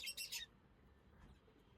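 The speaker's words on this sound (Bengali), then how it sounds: "এই সবগুলো হচ্ছে আমার বাজিগার পাখি।" Pet budgerigars give a quick burst of three bright, high chirps close by, then fall to faint, scattered twitters.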